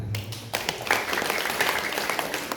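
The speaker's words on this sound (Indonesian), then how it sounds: "Tepuk tangan dulu" Audience clapping in a room, a dense burst of applause that rises after a short pause and continues steadily, with faint voices mixed in.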